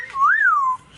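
An escaped pet bird gives a single clear, loud whistle, a smooth tone rising then falling and lasting under a second, heard up close with no talk.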